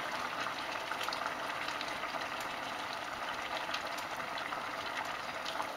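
Water bubbles at a rolling boil in a pan, a steady dense churning hiss that stays even throughout, heard up close with nobody speaking.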